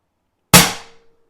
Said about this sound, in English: So you can't see me, but I'm going to cock it. And we're going to shoot it.